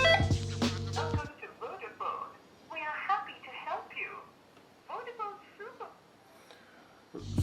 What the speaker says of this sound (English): So we're going to dial 111 and put it on loudspeaker.